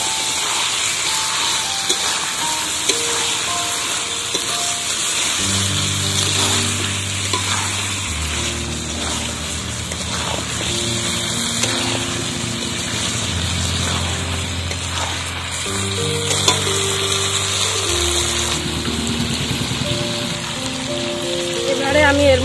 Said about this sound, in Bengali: দিয়ে চিকেনটাকে আবারও নাড়াচাড়া করব।